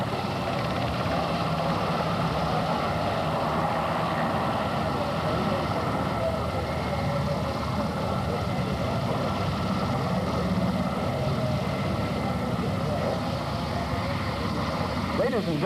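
A military helicopter at a 25th Infantry Division capabilities demonstration produces a steady, continuous rotor and engine roar throughout, heard at a moderate distance with outdoor crowd ambience.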